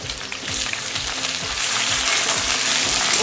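Potatoes tipped into hot oil with panch phoron five-spice and green chillies fry with a steady, loud sizzle, and low clatters of stirring knock through it from start to finish.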